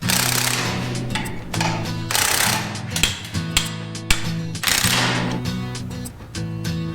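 An impact tool tightens bolts on a siliconed part during an engine install on a huge off-road wrecker, in loud rattling bursts of a second or two separated by short gaps, close up, with no talking.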